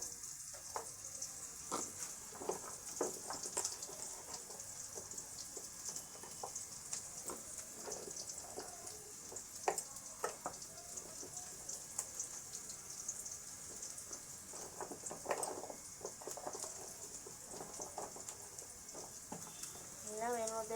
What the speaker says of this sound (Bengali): এই আলুগুলো ভেজে নেব